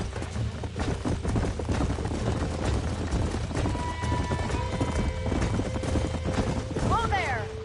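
Horse hooves clip-clopping at a steady walking rhythm in Red Dead Redemption 2 on a ranch, joined near the end by a rising, wavering whinny, under continuous background game sound and voices talking.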